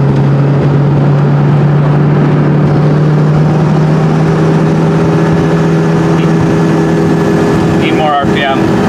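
A car engine on a dyno holds a loud, steady, droning high-rpm roar with a sustained tonal whine throughout. The sound is close and continuous, with a brief clattering disturbance near the end.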